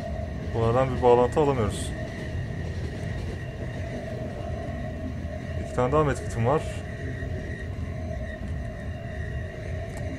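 Train from the video game The Final Station rumbles along in a steady, continuous low drone, with someone talking over it at intervals.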